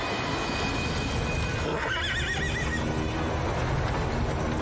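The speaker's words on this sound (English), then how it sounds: "The hell was that, a horse?" A horse whinnies loudly for about a second in a scene from the 1999 film Sleepy Hollow, rising above a dense, steady soundtrack with faint hoofbeats.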